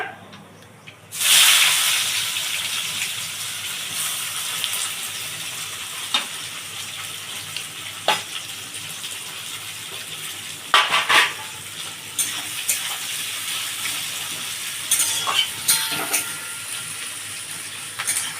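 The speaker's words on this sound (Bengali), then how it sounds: "চারটে পেঁয়াজ কুচি দিয়ে দিচ্ছি।" Four chopped onions hit hot oil in a pan and sizzle sharply, then settle into a steady hiss with occasional spoon stirs and clinks of utensils against the pan, no talking.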